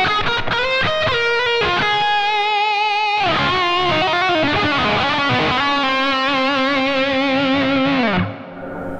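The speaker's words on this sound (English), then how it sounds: "you can hear the humbucker, how it works with more distortion in the amp" A Yamaha Pacifica 502V Custom electric guitar on its humbucker pickup plays through a Yamaha THR10X amp with heavy distortion, starting with a few choppy chords and then moving into sustained, loud, saturated notes and chords that end abruptly.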